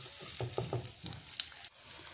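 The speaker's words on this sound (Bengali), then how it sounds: "পেঁয়াজ আর রসুনটা একটু হালকা করে ভাজলে, মানে লাল লাল করে ভাজলে এই ফ্লেভারটা সুন্দর আসে" Chopped onion and garlic frying for dal, giving a quiet, steady sizzle broken by a run of light spatula stirs and scrapes against the pan.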